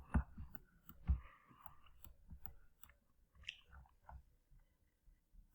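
Computer mouse clicks while drawing lines in Autodesk Takeoff software, a few sharp close clicks, loudest near the start, amid faint quiet room noise.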